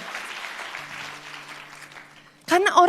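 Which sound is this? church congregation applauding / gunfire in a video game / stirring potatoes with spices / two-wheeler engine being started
church congregation applauding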